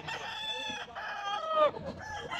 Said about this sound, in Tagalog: Maganda ng manok ni Boss Tony ah